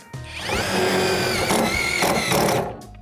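Dnipro-M DTD-201BC Ultra impact screwdriver driving a screw into aluminium or wood, a close, loud high-pitched whine that rises and falls, with short bursts of rattling impacts near the end.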